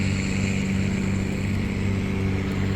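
A boat engine roars steadily at high revs, a loud continuous drone with no talk over it.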